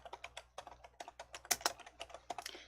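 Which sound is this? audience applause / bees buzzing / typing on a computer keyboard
typing on a computer keyboard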